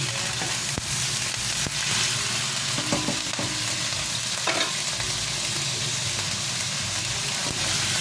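Dinuguan wrapped in lemongrass leaves frying in a pan gives a constant, loud sizzle and spatter close up, with a couple of faint utensil taps and a short burst of crackling partway through.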